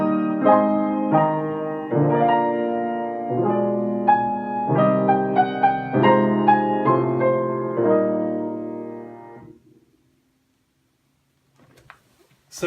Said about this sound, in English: So you can hear this harped effect, which creates a sweetness and fills out the textures.